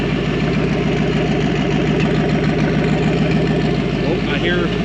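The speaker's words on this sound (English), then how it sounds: "Fan just kicked on." A car engine idles steadily with its radiator cooling fan running, producing a loud, constant low drone and whir close to the engine bay, with speech heard over it.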